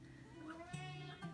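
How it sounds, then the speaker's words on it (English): A pet cat meows in a quiet indoor room, a few drawn-out, tonal calls that rise and fall across the short moment, close to the microphone with no talking. "my cat Tramp agrees"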